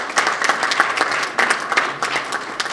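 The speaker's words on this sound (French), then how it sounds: "Donc, sous vos applaudissements." A community audience at a Congolese women's month closing event in Montreal breaks into brisk applause, close and lively, with uneven bursts of clapping throughout.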